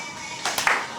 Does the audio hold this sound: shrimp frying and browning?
no